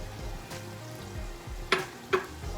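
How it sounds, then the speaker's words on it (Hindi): Onion and dry spice masala frying in a pan for koftey curry, a soft continuous sizzle with a couple of brief stirring scrapes, heard alone at low volume. "और मसाले को भूनेंगे।"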